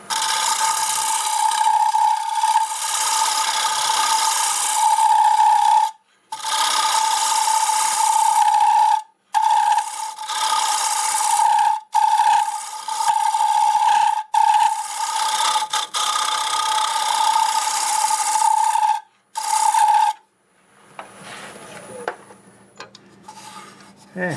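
A negative rake scraper works spinning purpleheart on a wood lathe, giving a sustained raspy whine in repeated passes that cut off abruptly between strokes, with a tool clatter at the end.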